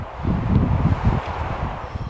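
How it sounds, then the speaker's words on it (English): Strong wind gusts in the Ochoco Mountains rumble and buffet the microphone unevenly, with a low roar and faint rustling throughout. "that wind is blowing like crazy out there"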